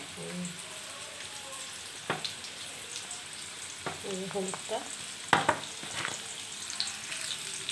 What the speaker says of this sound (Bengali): প্রথমে আলুটা ভেজে নেব।